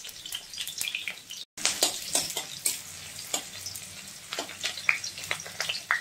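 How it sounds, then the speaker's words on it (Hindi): Onions fry in hot mustard oil in a wok, producing a steady close sizzle broken by repeated sharp scraping stirs, with one brief dropout early on and no talking. "प्याज को थोड़ा सा फ्राई कर लेंगे"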